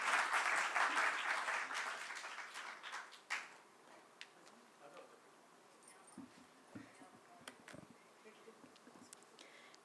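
Audience applause welcoming a poet onto the stage at a Hindi poetry reading, a loud burst of clapping for about three seconds that fades into scattered claps and light room noise.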